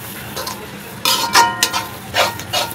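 A utensil clinks and scrapes against a hot pan while eggs are beaten into egg bhurji over a high flame, several sharp metallic taps and scrapes over a faint sizzle, close with no talk.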